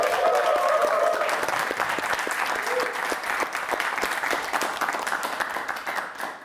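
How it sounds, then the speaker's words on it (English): A live debate audience applauds itself at the close of the event, a full round of crowd clapping that swells early and slowly thins, with a few voices briefly audible beneath. "Give yourself a round of applause."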